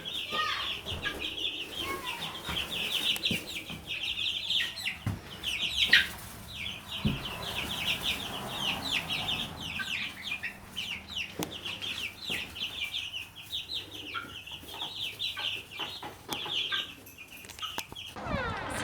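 Hens in a backyard chicken coop cluck steadily in a busy chorus, with occasional wing flaps and some quieter background movement.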